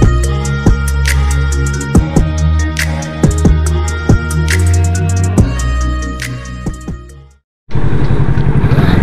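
A motorcycle fitted with a 59mm big-valve head and stock exhaust pipe revs loudly and close, its engine rising and falling in repeated blips before cutting out briefly, then a rougher burst of sound at the end.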